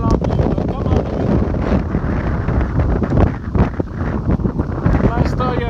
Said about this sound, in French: Pour l'instant, il y a une trentaine de nœuds de vent.